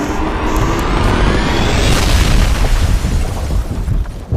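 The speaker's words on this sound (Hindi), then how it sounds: "तेरा इस जगह को भी बम से उड़ा देता है।" A bomb explosion erupts as a loud, sustained boom, a broad roaring blast that rumbles steadily for several seconds without easing off.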